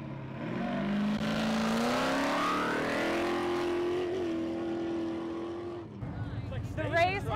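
A desert race truck at the start of a 400-mile race, its engine roaring up through rising revs close by and holding a loud steady drone, then fading as it pulls away, with people talking over it.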